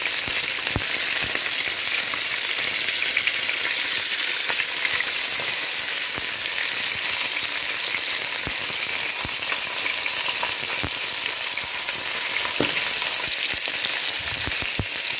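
Chicken pieces brown in a hot pan for a cream and white wine fricassee, giving a loud, steady, close sizzle and crackle with occasional sharper pops, no voices.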